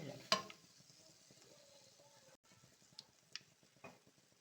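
Eggless donuts frying in oil over a low flame, giving a soft steady sizzle, faint and close, with a sharp clink near the start and a few light taps and stirring clicks later.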